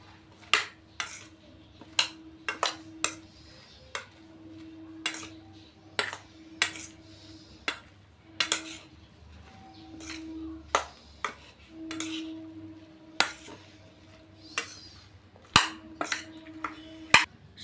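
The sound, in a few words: stirring soy chili in a pan with a utensil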